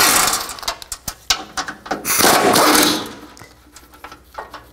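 Socket ratchet loosening radiator cooling fan bolts on a 2009-17 Chevy Traverse, a series of sharp clicking bursts and metallic rattles, close and fairly loud, with a longer grinding spell midway.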